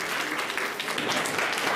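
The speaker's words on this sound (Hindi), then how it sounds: "जोरदार तालियां बजाएं बेटे" Audience at a school ceremony honouring top board exam students breaks into dense, lively applause, a short steady burst of many hands clapping.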